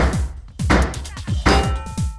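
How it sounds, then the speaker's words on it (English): Repeated hammering of a pipe into place in the Pipe video game, a series of about five sharp percussive whacks with ringing tails, loud and close, with no talking. "you press it so many times to hammer the pipe into place"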